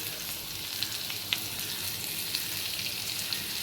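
Potatoes frying in a pan with a steady, close sizzle and a couple of light taps from a spoon, no talking.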